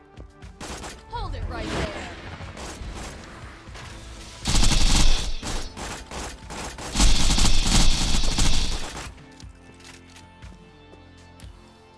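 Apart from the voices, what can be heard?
gunfire from a video game, Borderlands 3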